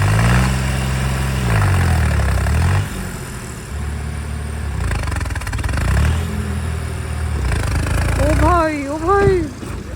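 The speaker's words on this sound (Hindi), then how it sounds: "वो देखो ट्रैक्टर भी फंस जा रहा है पूरा प्रेशर लगाने के बाद भी।" A tractor engine strains and labors while stuck pulling a Suzuki Jimny, loud revving surges that rise and fall with a pitch sweep near the end, under excited talk.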